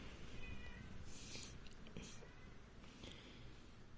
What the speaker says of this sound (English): This zebra cat is hungry.